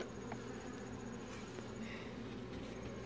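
Honey bees from a disturbed, stirred-up hive drone in a steady, dense buzz for the whole stretch, close and continuous with no talking over it.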